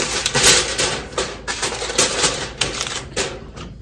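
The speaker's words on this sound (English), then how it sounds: "Take an aluminum foil. I'll seal it up completely." Aluminum foil crinkles loudly and close up as it is pressed down to seal a 16-quart All-Clad stainless steel rondeau of mutton biryani, giving bursts of sharp crackling and rustling.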